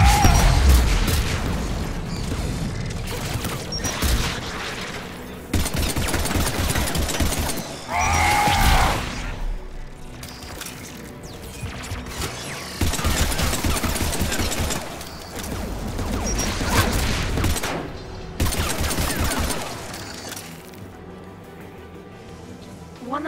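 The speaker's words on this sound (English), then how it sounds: "AA guns ahead of us." In the video game Mass Effect 3, anti-aircraft guns fire in loud repeated bursts with heavy booms and crashes, under a busy mix of game sound, while voices talk over the action.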